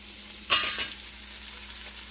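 Chicken and okra deep frying in hot oil, a steady soft sizzle with one sharp burst of crackling spatter near the start that dies back down.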